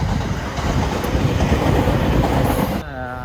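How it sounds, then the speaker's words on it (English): A train in Japan rushes past close by in a loud, continuous roar of wheels on rails, which drops off abruptly near the end. "train every 2 minutes or something"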